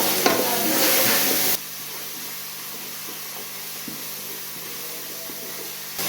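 Green chillies, turmeric and spices frying in a pot for mustard greens saag, a loud sizzle and hiss at first that drops abruptly to a quieter, steady crackle.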